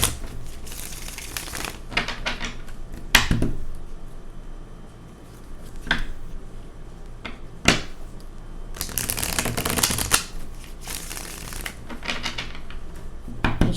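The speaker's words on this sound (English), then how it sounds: "I feel like I needed a couple good shuffles." Tarot cards being shuffled up close in several bursts of riffling and slapping, with short pauses and soft handling sounds between them, and no talking.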